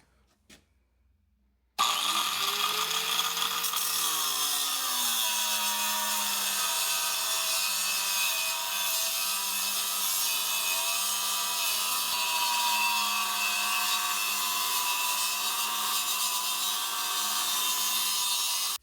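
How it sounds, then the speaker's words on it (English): A loud power saw starts up and cuts continuously through a metal bumper bracket on a Mitsubishi Pajero V24 for many seconds, a steady harsh whining grind close by with no voices. "we're gonna cut this bracket right now."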